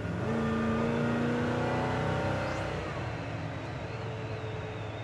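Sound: 1969 GMC C1500 truck with 350 engine accelerating

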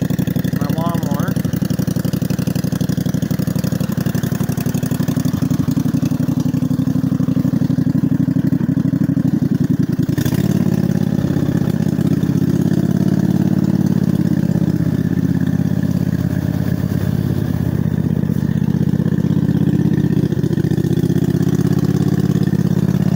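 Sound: lawnmower mud mower engine running in a flooded swamp

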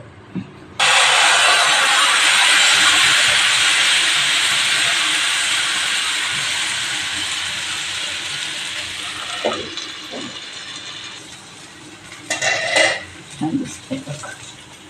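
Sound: amti dhirde batter sizzling on hot tawa

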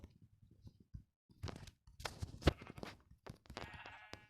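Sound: sheep bleating in Minecraft video game

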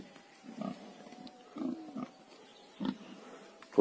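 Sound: pigs grunting

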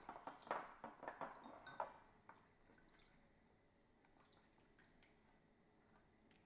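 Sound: stirring soba noodle salad sauce in a bowl

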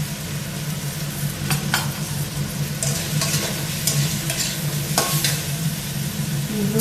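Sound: stirring katla fish curry spices sizzling in pan

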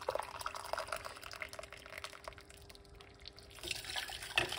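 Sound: hot water poured into a pot

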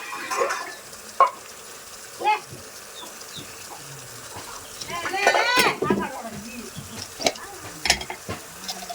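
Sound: fish sizzling in a pan with onions and turmeric

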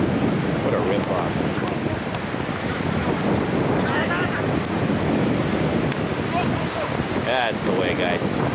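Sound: strong wind at Sauble Beach

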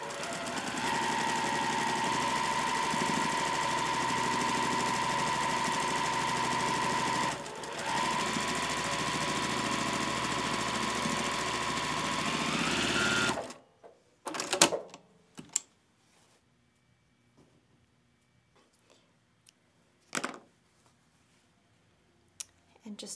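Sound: sewing machine chain stitching quilt block rows

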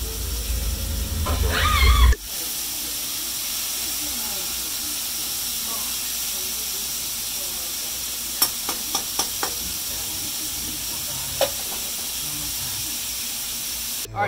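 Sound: rice sizzling and being stirred in pan

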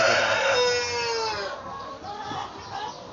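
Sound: pet chicken clucking and crowing

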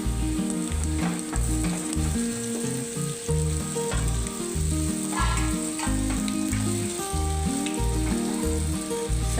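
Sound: bottle gourd muthiya sizzling in spice tempering

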